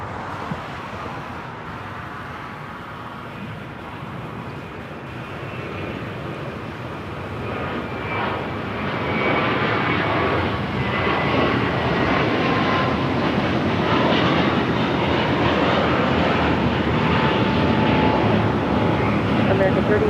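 A heavy jet airliner takes off from runway 25 right at LAX, its engine roar building gradually into a loud, sustained rumble, with radio talk audible beneath it.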